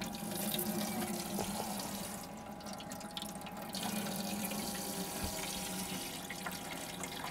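Tap water jet running steadily from the faucet inside a 2025 VW California camper van, a continuous close hiss of flowing water without pause.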